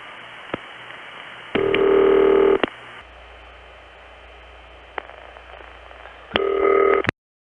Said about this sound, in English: Sometimes the ring just fades in like this.